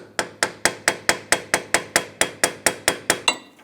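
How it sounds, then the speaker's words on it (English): Small thin screwdriver working around a rust-soaked rear ABS speed sensor on a 2008-2013 Nissan Rogue, giving about fourteen sharp metallic taps in a steady, even rhythm, close and distinct, with no talking. "I'm going to use a small thin head screwdriver and just basically work around the perimeter of it, try to break it free"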